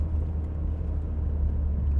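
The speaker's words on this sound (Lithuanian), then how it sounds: "čia visgi labiau girdžiu variklį" Steady low engine drone and road rumble inside a BMW E81 rear-wheel-drive hatchback on the move, a constant hum from start to finish with no talking.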